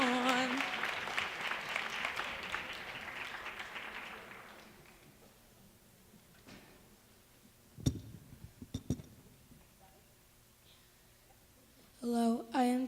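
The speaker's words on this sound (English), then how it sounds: "Give him a round of applause, guys" A crowd applauds for a third-grade boy at a Black History oratorical competition, a long dense wash of clapping that fades out over several seconds, followed by a few scattered clinks and a voice starting to speak.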